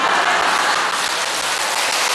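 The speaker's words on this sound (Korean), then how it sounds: "박수로 환영하겠습니다" Dense, sustained applause from a church congregation at an evening revival service, loud and even with no pauses.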